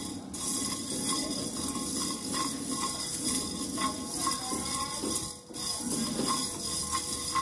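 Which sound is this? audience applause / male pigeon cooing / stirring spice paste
stirring spice paste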